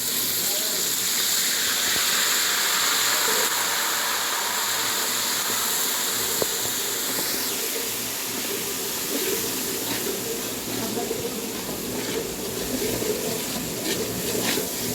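A ground paste of onion, green chili and coriander sizzles in hot oil, producing a continuous hissing crackle that stays fairly loud and even throughout.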